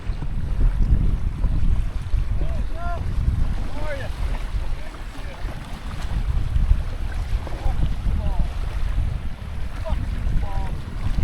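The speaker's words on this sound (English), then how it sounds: "The wind's blowing steady, at least 15." Strong, steady wind of at least 15 knots blowing across open water in the Everglades at Tiger Key, a loud continuous low rumble and buffeting over the microphone, with faint bird calls in the background and no talking.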